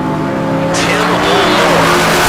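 A Camaro drag race car launches at the K&N Southwest Showdown, its engine surging into a loud, rising roar within moments, with an announcer speaking over it.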